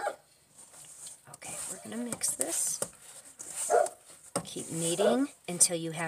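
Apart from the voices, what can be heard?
dog barking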